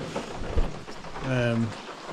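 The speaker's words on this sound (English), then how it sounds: "I hate rain." Rain pours down steadily on a bikepacking trip through Bavaria, a constant hiss close around with a brief louder swell partway through; no voice is heard.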